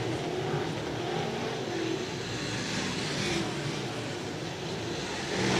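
Modified race cars roaring through turns one and two at New Egypt Speedway, a dirt oval, with a dense, continuous engine drone from several cars at a steady distance and no speech over it.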